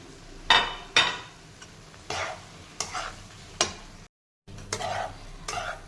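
Soybeans are stirred into spice masala frying in a pan for egg curry, with a series of distinct scraping stirs and soft sizzling, a brief silent gap, then more stirring close by.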